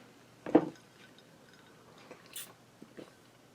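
Someone bites into a soft pudding and cake dessert, one close wet bite and chew followed by a few quieter mouth sounds and small clicks.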